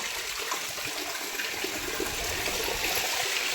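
Heavy rainwater pouring off a roof onto stairs during a downpour, a dense continuous rushing splash that stays steady and loud throughout.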